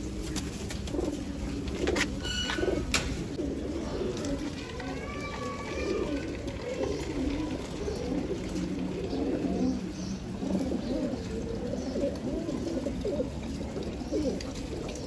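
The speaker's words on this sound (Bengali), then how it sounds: "এখানে আপনারা দেখতে পাচ্ছেন আমি কবুতরগুলোকে ধান দিলাম" Pigeons coo softly and repeatedly while pecking at paddy grain, with low rustling and shuffling of birds around them and a few brief sharp knocks early on.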